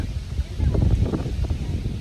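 Strong wind gusting across an open picnic grove, a steady broadband rush with swells, heard close and fairly loud with voices faintly mixed in.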